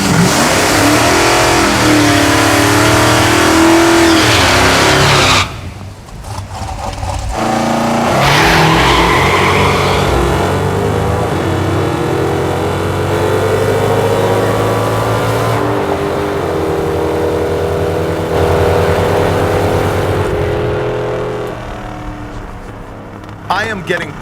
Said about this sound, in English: This thing is leaving hard on the nitrous, but unfortunately, it's also spinning the tires and slowing me down.